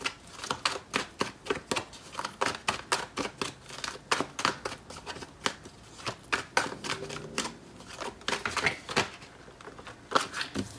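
Tarot cards being shuffled and drawn by hand produce a rapid series of crisp, close riffling snaps and flicks in irregular bursts, quiet overall and with no talking.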